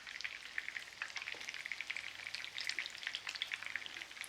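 Glamorgan sausages made with Caerphilly cheese and leek fry in a pan, giving off a faint, steady crackle of fine spitting pops with no voices.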